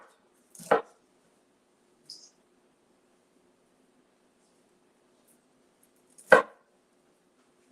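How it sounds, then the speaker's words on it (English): A knife chops vegetables into bite-size pieces on a cutting board with two sharp, separate, close thuds several seconds apart in an otherwise quiet kitchen. "There's no special way of cutting your vegetables for this particular dish."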